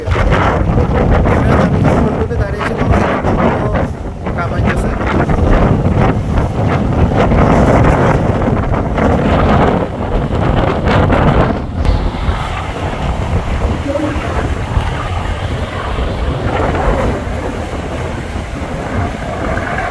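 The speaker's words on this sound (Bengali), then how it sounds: "দেখতেই পাচ্ছেন কি পরিমাণে ঢেউ আর পানি" Strong wind buffets the microphone with a heavy roar during a Kalbaishakhi storm, while large waves churn and splash around the launch MV Doyel Pakhi-10; engine rumble underneath, no clear speech.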